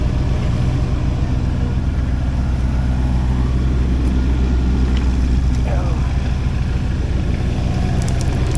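A mini skid steer loader's engine runs steadily nearby, a loud continuous rumbling drone that holds the same level throughout with no breaks.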